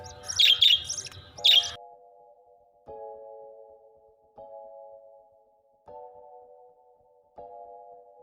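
Pet lovebirds kept at home give a couple of loud, close, shrill chirps. A steady, repeating electronic-sounding tone then pulses at regular intervals through the rest of the clip.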